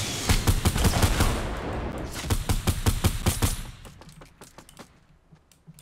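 Rapid automatic gunfire in the Fortnite video game, a loud burst of evenly spaced shots that continues in a second volley and fades to fainter scattered shots at the end, with no talking.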